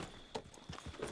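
A horse's hooves clip-clop at a walk in Red Dead Redemption 2, a few soft, uneven thuds, faint and somewhat distant against a quiet background.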